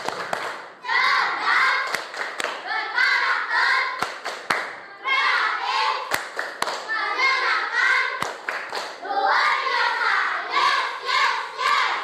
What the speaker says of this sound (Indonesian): Tepuk pelajar Pancasila.